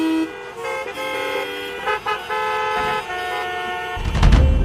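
Car horns honk repeatedly in Indian road traffic, with sustained, overlapping tonal blasts and short toots from several vehicles, nearby and loud, ending in a rumbling surge of engine noise.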